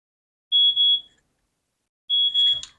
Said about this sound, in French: c'est un bruit pour détecter si la connexion passe très bien ou pas